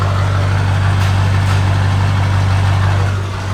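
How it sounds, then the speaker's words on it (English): A turbocharged S400 truck engine idles close by with a steady, deep low rumble from the exhaust, droning evenly throughout with no speech. "Give you guys a quick little exhaust note here."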